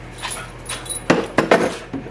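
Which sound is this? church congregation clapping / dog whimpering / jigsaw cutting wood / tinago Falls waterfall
dog whimpering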